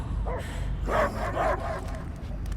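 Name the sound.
dog barking in Marvel's Guardians of the Galaxy video game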